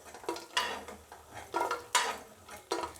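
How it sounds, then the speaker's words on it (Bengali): Homemade lentil dumplings being lifted out of hot oil in a pan, with a series of scraping, clinking ladle strokes in a loose rhythm over a faint sizzle. "আমি বড়িগুলো তুলে নেব।"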